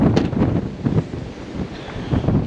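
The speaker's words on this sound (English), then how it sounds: "Again, I'm sorry about the wind." Strong, steady wind buffets the microphone outdoors on a fishing trip by the water, a continuous low roar with gusty surges throughout and no speech.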